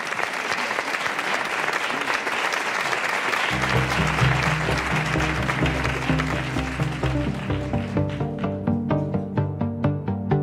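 An audience at the 2017 El Público awards applauds as a singer is welcomed on stage, dense clapping that continues as music with a steady beat starts partway through.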